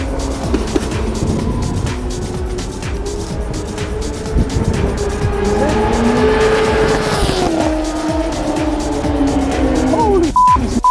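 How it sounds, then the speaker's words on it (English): A Porsche GT4 S race car tears past at the Nürburgring, very loud and close. Its engine roars and shifts pitch over a constant rush of tire and road noise, with faint squeals as it goes by. "Here comes the sick Porsche, GT4S I think."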